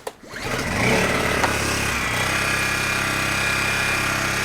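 Honda EU10i portable generator with its muffler refitted, restarted without choke: a quick start-up catch, then a loud, steady engine drone running evenly and close by, with no talk.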